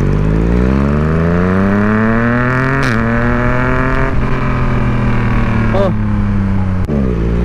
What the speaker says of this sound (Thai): เสียงมันเป็น3สูบลืมบอกไว้เป็นรถ3สูบเสียงมันมีเอกลักษณ์ม